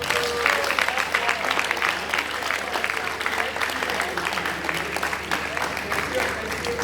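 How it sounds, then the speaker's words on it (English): An audience at a university journalism ethics lecture claps for the guest speakers, a dense, steady round of applause with some crowd murmur running underneath. "we must sincerely appreciate them by clapping for them"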